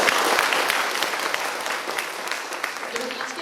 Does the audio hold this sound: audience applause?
yes